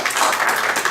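Brief applause at a Clayton County meeting, a short burst of scattered hand clapping from a small crowd in a hall, heard alone for about a second.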